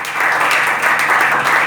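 A church congregation applauds together in a dense, steady burst of clapping that fills the room for about two seconds, loud and close, with no speech.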